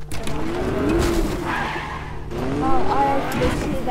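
Car engine and skidding tires in a Fortnite-style battle royale match, a steady engine drone with squealing slides running throughout, heard under continuous talking.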